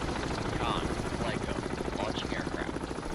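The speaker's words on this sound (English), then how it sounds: "Alright, let's launch this Wessex." A Wessex naval helicopter launches in the submarine and surface combat game Cold Waters, giving a steady rapid rotor thump over a dense engine roar throughout, with a voice occasionally audible.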